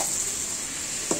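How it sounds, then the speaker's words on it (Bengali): Chicken and cabbage stirred in a frying pan, a steady close sizzle of hot oil throughout with one brief scrape of the spatula near the end. "দেখুন নাড়াচাড়া করে দিচ্ছি মাংসের সাথে"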